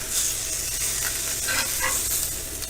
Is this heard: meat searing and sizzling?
yes